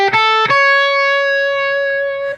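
An electric guitar phrase in Mixolydian flat 6, exotic sounding, heard as two quick picked notes followed by one long, clear sustained tone that rings out steadily before fading.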